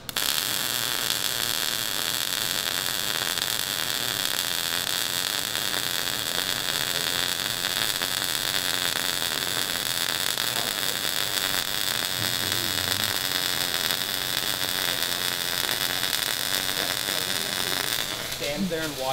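A welding torch runs on metal, with its nozzle held about half an inch from the weld. It makes a loud, steady crackling hiss that carries unbroken for most of the stretch and cuts off near the end.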